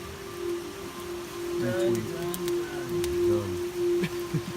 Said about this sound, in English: It's 3:30 in the morning and it's raining.